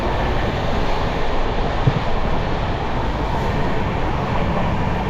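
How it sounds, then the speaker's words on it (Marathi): A passenger train runs at high speed in light rain, heard from inside as a continuous dense rumble and broadband roar, steady and loud throughout without clear wheel beats. "ट्रेनचं स्पीड जवळजवळ 130 आहे वाटतोय बघा."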